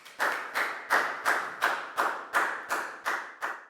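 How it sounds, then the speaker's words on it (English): A class claps for a student in a Year 4 maths lesson, about eleven even, rhythmic group claps in unison, each ringing briefly in the room, clear and close with no talk. "High five and a big round of applause for Pat"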